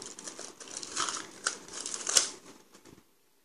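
Washi tape being unrolled by hand, giving a few seconds of close, crinkly papery rustling with small peeling crackles and one sharper snap near the end, heard alone without speech.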